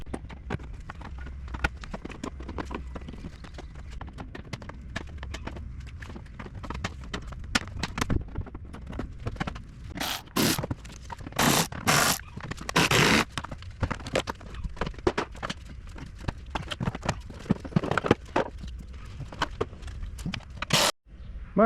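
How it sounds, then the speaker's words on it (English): A clip remover tool prying plastic clips off the front end of a 2014-2018 Chevy 1500, heard up close as irregular clicks, snaps and scrapes, with a cluster of louder sharp pops in the middle. Faint talk is present. "So we're going to start out with using the clip remover."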